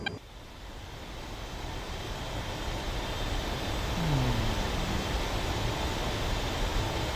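An A-10 Warthog's jet engines hold a steady, broad whine and roar while taxiing in a flight simulator, loud and continuous, swelling slightly near the end.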